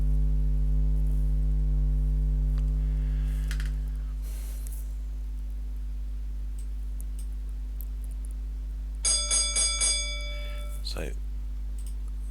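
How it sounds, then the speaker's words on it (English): A railway block bell in the Ford, Sussex signal box rings four quick strokes, following a low steady hum and a brief word from a man. "4 bells, that means train entering section, but it's a branch train"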